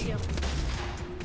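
Gunfire from a firefight in Fortnite, a loud burst of rapid shots layered with game noise over a short stretch, with a player's voice briefly audible.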